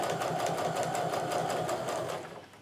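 A domestic sewing machine stitches quilt block pieces in a steady, rapid run of needle strokes, close and fairly loud, easing off toward the end as it slows.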